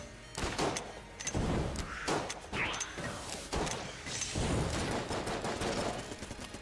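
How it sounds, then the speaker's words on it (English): A flurry of shots from a dueling pistol in Enter the Gungeon mixed with overlapping impacts and game effects, dense and busy, near and fairly loud, with no talk. "I don't know if this will hit, but I'm just gonna shoot anyways."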